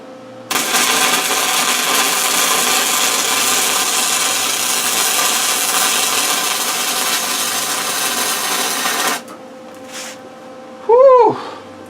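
An arc welder lays the last two welds on a Kubota B7800 HST tractor canopy, giving a steady, close, loud crackling hiss for several seconds that cuts off abruptly, followed by a short tonal whine.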